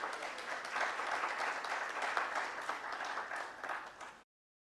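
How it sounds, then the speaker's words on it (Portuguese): Applause for a speaker at an ethics and citizenship symposium, a moderately quiet, steady patter of many hands clapping that swells slightly and then cuts off abruptly near the end. "Queria pedir uma salva de palmas para ele"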